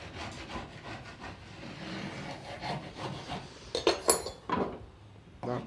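A chisel scrapes excess glue off a homemade wooden bench vise, giving a quiet run of short rubbing scrapes and light wooden taps with a few sharper clinks near the end, and no voice.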